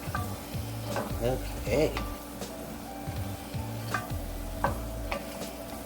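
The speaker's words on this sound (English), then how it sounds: "Now I'm adding in that garlic." Garlic sizzles in a pot for a chicken and rice casserole, a loud, steady frying hiss with stirring scrapes and clatter throughout; a voice speaks briefly over it.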